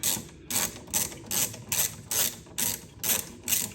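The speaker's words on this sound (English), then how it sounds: "This bolt here that we're taking out here is gonna be the bolt that holds the bracket in place for the catch can" A ratchet works loose a bolt holding a catch can bracket on a 2021 Ram 1500, clicking in about eight steady, evenly spaced bursts close by with no talk.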